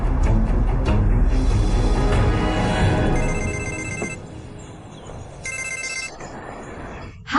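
An electronic telephone ring sounds in a dramatic scene during a call, repeated trilling tones over background music and effects, moderately loud.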